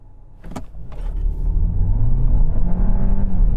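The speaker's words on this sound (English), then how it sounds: "I'm just going to lift off the brake and then floor the accelerator" A petrol VW Golf 1.5 pulls away hard from a standstill under full throttle, its engine rumble building to a steady loud roar after a brief mechanical clunk at the start.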